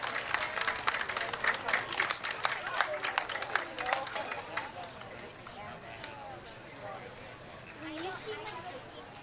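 Crowd clapping at a high school prom walk-in in Hicksville, dense bursts of applause for the first few seconds that thin into scattered claps and background chatter.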